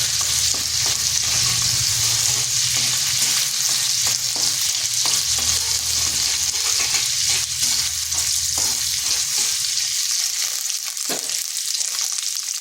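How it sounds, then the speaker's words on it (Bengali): Grated ginger and red and green chillies frying in hot oil in a pan, being stirred with a spatula; a steady loud sizzle with repeated scraping stir strokes throughout, no talking. "আর দিচ্ছি কাঁচা পাকা লঙ্কা। এটা একটু নেড়ে নিচ্ছি যাতে আদার কাঁচা গন্ধটা চলে যায়।"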